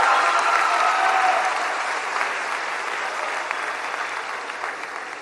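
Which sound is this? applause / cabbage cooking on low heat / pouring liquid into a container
applause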